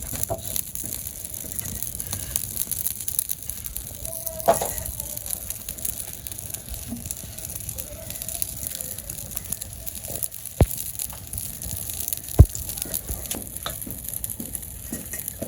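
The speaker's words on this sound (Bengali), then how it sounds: "কড়াই গরম হয়ে গেছে তেল দিয়ে দিই" Steady hissing sizzle of oil in a hot wok runs throughout, with occasional clinks and scrapes of a utensil against the metal.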